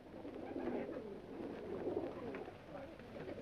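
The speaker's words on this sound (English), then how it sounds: "Nancy, are you positive you saw that pigeon stop at this house" Pigeon cooing near a house in a 1938 detective film, a soft, steady low murmur running through the whole stretch with faint background noise.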